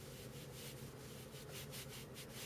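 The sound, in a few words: cloth rubbing alcohol onto a PS3 CPU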